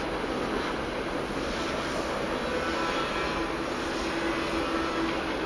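Radio-controlled 3D aerobatic airplane engine being throttled up, a steady, even drone heard from a distance and mixed with heavy wind noise.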